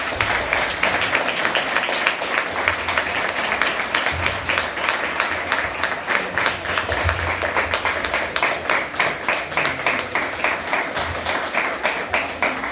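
Church congregation clapping together as an offering of palms, a dense, rhythmic burst of many hands beating a steady fast pulse, sustained for over twelve seconds in a reverberant room.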